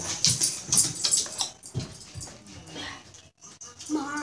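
A dog whimpers and yips in short, high, repeated cries close by, with a brief quiet gap before a final rising whine.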